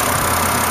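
A 2009 BMW 528i with a 3-liter engine idles under the hood, a steady, smooth, close hum with a low rumble and no breaks or talking.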